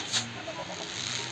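Brief clucking from a dodo in the mobile game Ark Survival Evolved sounds faintly over game ambience and a low hum.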